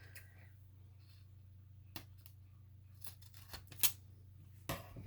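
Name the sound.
scissors cutting a square of packing tape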